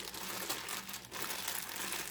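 Close, steady crinkling of a plastic bag holding chopped onions, continuous rustling handled up near the listener for a couple of seconds.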